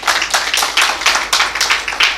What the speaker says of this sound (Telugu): ఒప్పుకుంటే ఒకసారి చప్పట్లు పడండి దేవునికి